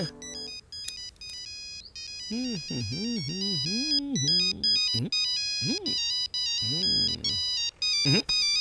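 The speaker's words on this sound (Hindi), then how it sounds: "तब से फोन की रिंग बज रही है" A phone ringtone plays a repeating electronic melody of bright tones, loud and close, with a warbling sweep through the middle and no talking.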